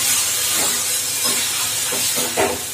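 Water poured into a hot pan of fish curry sets off a loud, hissing rush of steam and bubbling, with a few sharper spits near the end and no voices.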